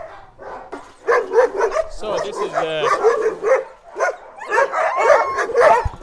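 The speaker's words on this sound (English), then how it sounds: "all these are puppies, and this is a puppy play area." Several puppies bark and yip in quick bursts close by in a breeder's puppy play area, while a person talks over them throughout.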